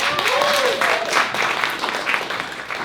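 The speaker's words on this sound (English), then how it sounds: "So give a round of applause for that." An audience at a storytelling bootcamp graduation show claps in a short burst of applause, fairly close, with a voice briefly heard over the start of the clapping.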